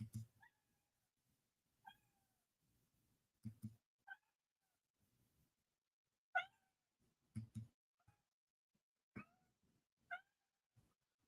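A house cat meows repeatedly, about ten short plaintive calls spaced irregularly over several seconds, fairly close in a quiet room with faint rustling between them.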